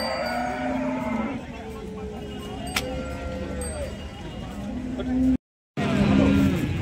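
Cows moo at the Sangola cattle market, drawn-out low calls rising over a busy crowd of voices, with a brief cutout near the end.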